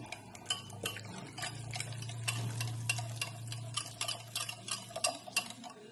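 Whisking 1.5 cups of curd (yogurt) in a bowl, a steady run of quick scraping, tapping strokes against the bowl. Close and fairly quiet, with a low hum underneath and no voices.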